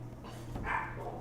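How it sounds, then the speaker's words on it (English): Ghostly, eerie dog bark sound effect heard in a tabletop game session, a single drawn-out bark-like cry rising briefly over a low steady hum. "ghostly barking of a dog."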